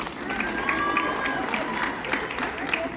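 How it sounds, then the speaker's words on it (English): Convention crowd applauding and cheering in a large hall, a steady dense wash of clapping with scattered shouts, fairly close and loud throughout. "Great applause for yourself"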